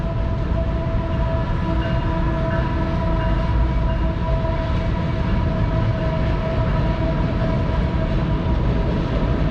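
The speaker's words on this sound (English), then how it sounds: "And here goes a train in the distance." A train rumbles steadily past at a distance in Harpers Ferry, a continuous broad roar with faint tonal whine, no voices.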